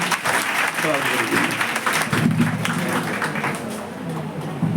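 Audience clapping at a national seminar fills the room as a steady, fairly loud ovation, with a voice talking over it partway through.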